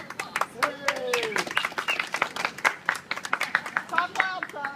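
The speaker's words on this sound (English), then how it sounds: "Y'all please give him a round of applause." Scattered applause and individual claps rise from a small crowd at a county tax protest rally, uneven and fairly near, with voices calling out and talking over the clapping.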